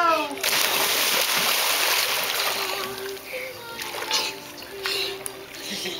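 Child swimming and splashing in water outdoors, with a continuous close splashing and churning that fades and rises as the swimmer moves, and people talking, including a voice, under the water noise.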